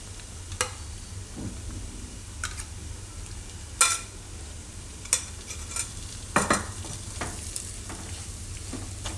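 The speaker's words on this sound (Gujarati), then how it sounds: "તો આને આપણે હવે શેકી લેવું" Gram flour being stirred and roasted in a pan for Mohanthal, a soft steady sizzle broken by scattered sharp scrapes and clinks of the spoon against the pan, close and without talk.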